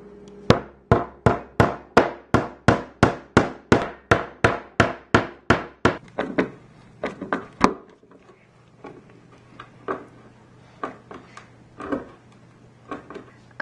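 Steady, evenly spaced hammer blows drive picture frame holder tacks into wood, about fifteen sharp knocks in a row, followed by slower, lighter, irregular taps.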